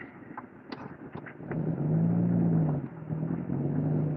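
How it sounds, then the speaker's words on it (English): During a storm, a car's tires spin as the engine revs into a loud, sustained rumbling whine that swells and holds, preceded by scattered clicks and knocks from inside the vehicle. "He's spinning his tires."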